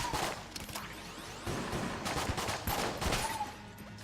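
Colt 1851 revolver firing in Enter the Gungeon, a fast volley of sharp repeated gunshots with crackling impacts, steady rapid rhythm over a busy game background, moderately quiet and with no talking.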